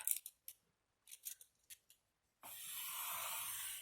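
Scissors cut stacked sheets of ivory paper: a few short snipping strokes come close and clear, then give way to a steady continuous shearing sound at the end, with no voices.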